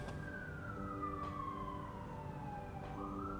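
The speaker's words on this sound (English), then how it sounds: "I'm not sure if the mic catches the ambulance, but I'm guessing it does." An ambulance siren passes outside, heard faintly from indoors, its wail sliding steadily down in pitch as it goes by and then rising again.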